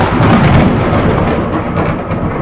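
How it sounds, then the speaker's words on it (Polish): A loud thunderstorm in the horror video game Nun Massacre: a deep, continuous rumble of thunder with a dense roar, heavy and close throughout, with no talk over it. "Jaka ta burza jest głośna."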